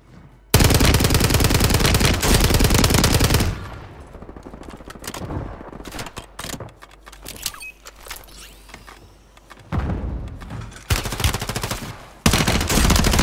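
Rapid automatic gunfire in Call of Duty Warzone on Rebirth Island, loud sustained bursts up close, a pause with scattered shots and movement, then more heavy firing returning.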